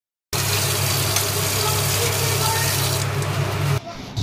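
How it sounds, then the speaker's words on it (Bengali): Pomfret fish are washed under running water in a home kitchen. A steady rushing stream starts abruptly after a short silence, continues evenly and cuts off near the end. "মাছ ধোয়ার কাজে লেগেও পড়েছি"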